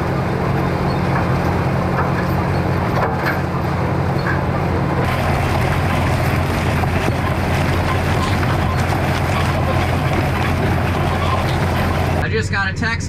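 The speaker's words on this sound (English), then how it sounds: "Welcome to Tractor Ride 2022. I'm just going in circles." A tractor engine drones steadily and without a break, with wind buffeting the microphone throughout.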